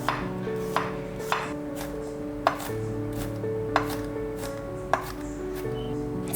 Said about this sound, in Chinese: 切一些洋葱碎， 再切一些蒜碎。